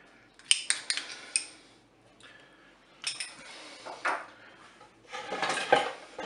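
A spoon or utensil stirs spaghetti with tomato and carrots in a Cookeo multicooker pot, making scattered close clinks and scrapes in short bursts separated by quiet pauses, with no talk.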